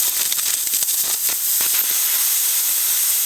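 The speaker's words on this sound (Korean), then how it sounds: "여기서 에어가 새고 있기 때문에 그렇죠" Air leaking from a cylinder during a compression pressure test on a GDI engine, a sharp continuous hiss with flickering bursts in the first half, then steadier.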